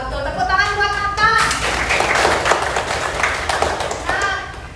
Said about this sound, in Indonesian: Tepuk tangan buat Nata.